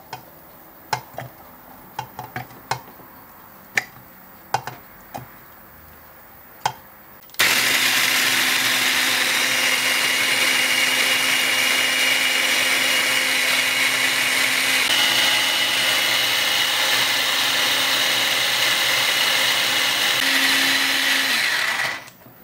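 An electric blender chops orange for an orange sponge cake. Several sharp ticks come first, then a loud, steady motor whir runs for about fifteen seconds before cutting off.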